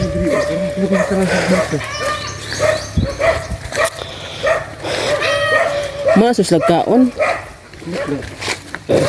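Several dogs bark and yip in bursts, close by on a rural farm, while people talk over them.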